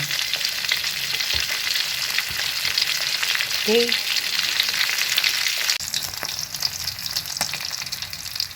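Loud, crackling sizzle of fish frying in a pan, continuous and close, with a few utensil scrapes and one brief spoken word.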